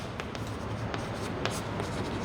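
Chalk or marker scratching across a board during a class 10 mathematics lesson, a steady low scrape with a few brief squeaky strokes, close and continuous with no talking.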